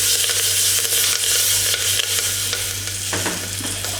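Curry leaves crackle and sizzle loudly in hot oil over a medium-to-low gas flame, a dense close frying hiss with stirring scrapes and a brief burst of spattering near the end, with no talking.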